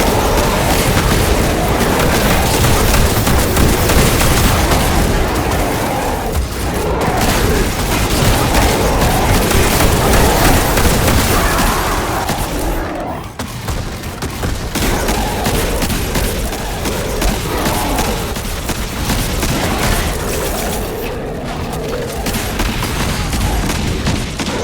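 Weapons fire at a boss in the video game Destiny 2 as a dense, loud, relentless barrage of shots and booms that continues for the whole stretch with only brief dips.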